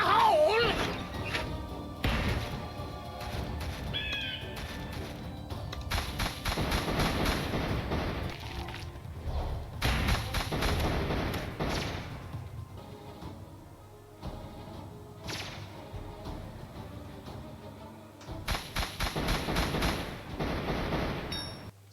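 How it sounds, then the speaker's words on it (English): Tramin's Rocket Barrage in Kingdom Rush Vengeance sends rockets crashing down in repeated clusters of loud explosive blasts and thumps, separated by short lulls over busy game noise. "The last ability is Rocket Barrage."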